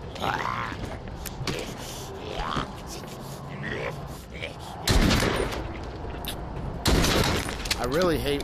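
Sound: gunshots in The Walking Dead video game

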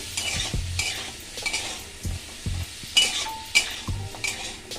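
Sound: chopped onion and capsicum frying in butter

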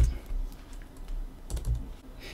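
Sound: typing on a computer keyboard

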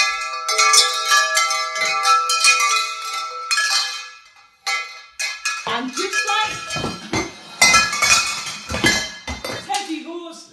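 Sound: wind chimes ringing in the wind

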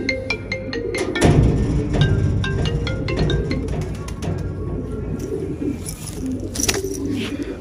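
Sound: pigeons cooing

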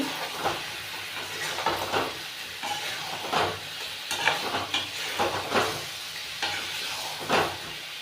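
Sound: stirring tomato sauce into mutton curry in a pan

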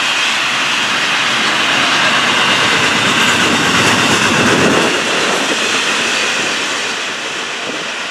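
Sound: FEC 101 freight train passing

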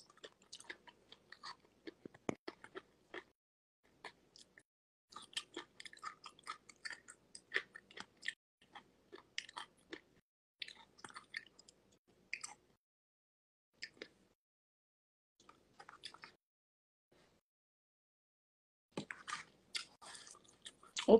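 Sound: chewing and eating food

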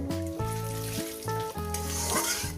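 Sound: bay leaf and whole cumin frying in oil

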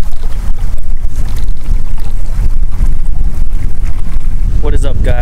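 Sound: strong wind

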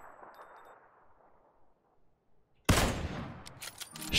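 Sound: gunshots in the video game PUBG

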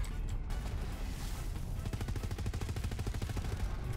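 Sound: gunfire from DAHL weapons in video game Borderlands 3

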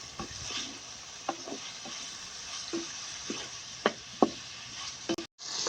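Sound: onions and tomatoes frying with spices in a pan

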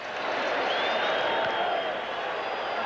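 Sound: baseball crowd cheering and clapping for a strikeout

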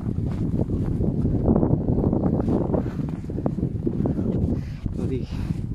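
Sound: strong wind during snowfall

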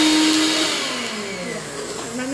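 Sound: blender grinding granola ingredients

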